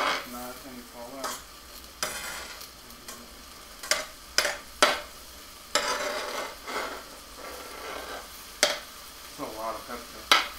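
Peppers are stirred into a frying pan for a pasta dish, giving a soft sizzle broken by repeated scraping and clacking strokes of the utensil on the pan.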